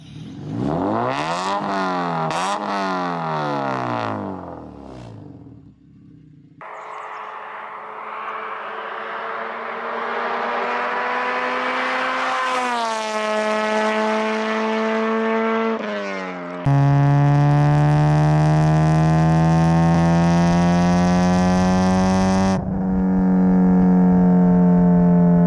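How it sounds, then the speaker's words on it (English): Honda Civic Si, 8th generation, with a Skunk2 Megapower RR exhaust, revving hard through rising and falling engine notes, then holding a loud, deep steady drone, each pass separated by sharp cuts between takes. "Positives of the exhaust is it sounds really good."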